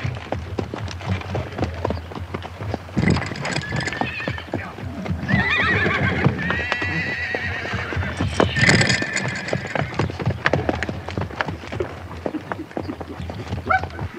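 Several horses whinny loudly while hooves clop unevenly on the ground, with a busy outdoor rumble underneath.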